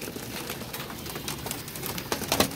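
Caged pigeons coo softly and repeatedly in a setup holding adults and young chicks, with low, throaty calls overlapping and close by.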